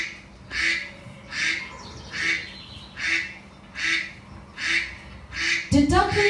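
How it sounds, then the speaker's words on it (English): Six newly hatched ducklings quack with their mother duck in a puppet-show scene, about eight evenly spaced bursts of quacking repeating roughly every second at steady moderate loudness, ending in a brief louder jumble. "They are quacking and moving around with mother duck."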